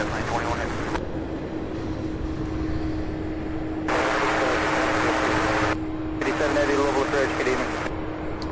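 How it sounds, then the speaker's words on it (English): Jet aircraft approaching to land at Louisville's SDF airport, a broad continuous engine roar that stays steady throughout, with a hissing band swelling in and out over the rumble and a low hum underneath. "love seeing these aircraft turning and coming in from a distance"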